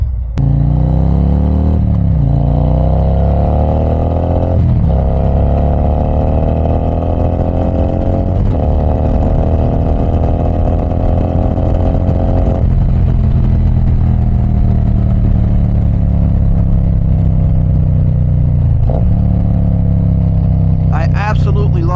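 A Harley motorcycle engine rumbles loudly and close while riding in cool weather, its pitch climbing and dropping through several gear changes, with a voice talking over it.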